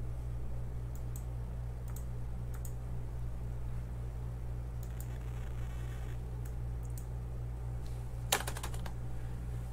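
Keys clatter on a computer keyboard while code for a PIC 16F877 microcontroller is typed, coming in scattered quiet bursts of clicks with a slightly louder flurry near the end, all over a low steady background hum.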